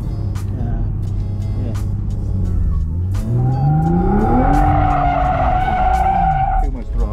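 Close, loud engine drone from a drifting Toyota GR Supra, then a rising rev and a high sustained tire squeal through most of the second half, easing off at the end; faint talk in the background.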